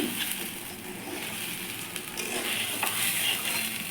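Basmati rice toasting in a pan for Bengali Basanti pulao gives off a steady, close-up sizzle, a soft continuous hiss with faint scraping, and no voices.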